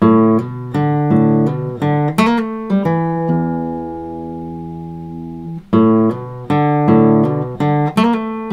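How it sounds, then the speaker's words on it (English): Blues guitar intro phrase, played with hammer-ons and pull-offs instead of bends: quick plucked note runs, a sustained ringing chord in the middle, then more rapid picked figures, close and clear with no talking. "I'm going to try it with the hammer-on pull-off technique"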